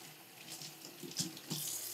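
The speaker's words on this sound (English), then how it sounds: "I'm rinsing them off now thoroughly." Tap water runs steadily into a sink while plastic inhaler spacer devices are rinsed under it, with a continuous splashing hiss and a few louder splashes as the parts move through the stream.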